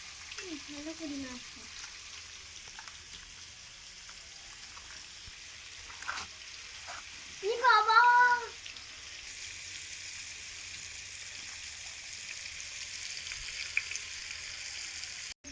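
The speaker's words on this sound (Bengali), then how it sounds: "আলুগুলো ভাজা হয়ে গেছে, এবার তুলে নেব।" Potatoes fry in oil with a soft, steady sizzling hiss that runs the whole time, broken briefly by a short voice.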